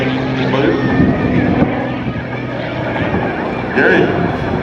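An MX-2 aerobatic airplane's engine at an air show, a loud droning roar mixed with wind buffeting on the microphone, with an announcer talking over it.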